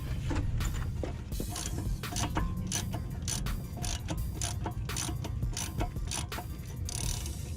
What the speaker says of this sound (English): I can use my socket and ratchet to remove it the rest of the way